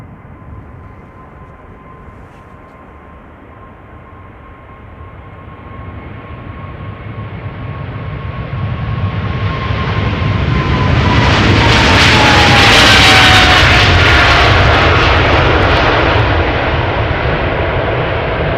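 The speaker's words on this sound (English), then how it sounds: "777 time, going to Cape Town, South Africa, KLM flight 597, 777-300" A KLM Boeing 777-300 bound for Cape Town departs Schiphol Airport, its engines building from a distant whine into a loud, close roar that peaks and then holds, with a thin high tone sliding downward as it passes.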